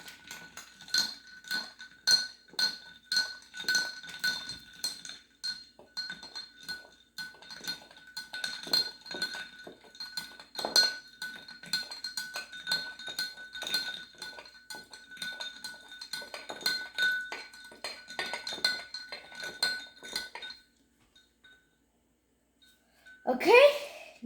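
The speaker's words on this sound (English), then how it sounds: "Now take a spoon and mix it." A spoon stirs ice in a glass of homemade lemonade, a quick run of bright clinks and rattles that goes on for about twenty seconds and then stops, with a short burst of other noise at the very end.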